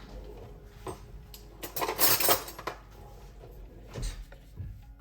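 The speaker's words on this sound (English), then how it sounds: "Let me get a butter knife." Metal cutlery clinks and rattles in a kitchen drawer while a butter knife is fetched for shaping kaju katli, a few close bright clatters clustered mid-clip with quieter knocks around them.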